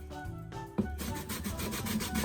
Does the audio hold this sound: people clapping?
no